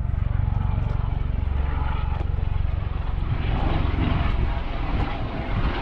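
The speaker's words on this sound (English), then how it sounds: "So I think I hear, a helicopter" A steady, droning engine roar of a helicopter overhead near Akron-Canton Airport, with a low rumble holding constant throughout and no talking.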